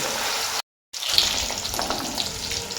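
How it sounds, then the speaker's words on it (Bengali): Paneer pieces frying in hot oil for a paneer and mixed-vegetable dish, giving a steady close sizzle that breaks for a moment and then carries on at the same level. "এই কারণে পনিরটাকে লাস্টে ভাজছি।"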